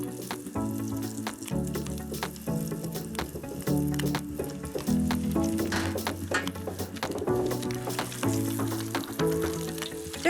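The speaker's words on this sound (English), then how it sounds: "I'm gonna drop my little meatballs in the oil." Small tuna and eggplant meatballs fry in hot oil in a pan, a steady close sizzle over about ten seconds, with music playing underneath.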